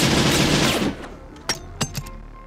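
Gunfire from RoboCop's gun in RoboCop 3 (1993 film): a dense burst of rapid automatic fire for about a second, then three separate sharp shots that ring out over a quieter background.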